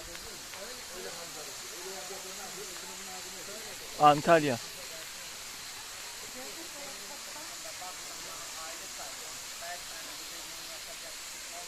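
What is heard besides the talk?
Kurşunlu waterfall rushing water, Antalya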